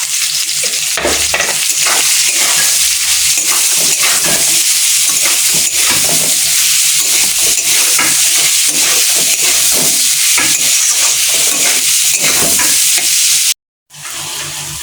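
Onions frying to golden brown for a home-style chicken curry keep up a loud, steady sizzle, with a ladle stirring and scraping the pan repeatedly before a brief cutoff near the end.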